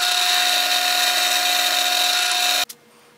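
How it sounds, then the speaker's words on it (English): A power drill whines loudly and steadily while boring a small hole into a steel rifle action block made for a rebar barrel, then cuts off abruptly with a brief clunk near the end. "So we're gonna drill a little hole and tap a 632 screw in it."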